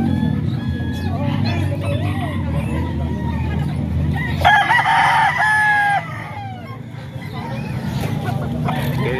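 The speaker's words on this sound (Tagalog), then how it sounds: "Dalawang manok kinuha kay boss" Roosters crow repeatedly at a farm in San Ildefonso, their calls loud and overlapping above a steady low rumble, with one especially strong crow near the middle and clucking fowl around them.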